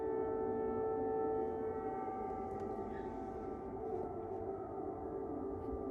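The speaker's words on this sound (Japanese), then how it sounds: "サイレンが鳴り出しました。" A steady, wailing air raid warning siren drones on with strong sustained harmonic tones, heard from some distance outdoors and holding at a constant loud level throughout.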